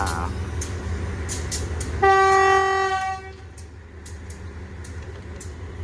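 Rapid train 109 from Krung Thep Aphiwat to Chiang Mai, hauled by locomotive QSY 5245, sounds a loud, steady horn for about a second at the station, with idling engine rumble and rail noise before and after.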